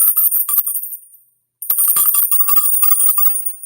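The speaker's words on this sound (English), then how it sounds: "Every bell is different." A high-pitched hand bell is shaken rapidly and loudly up close, its ringing stopping for a brief silent gap and then starting again as a continuous bright jangle.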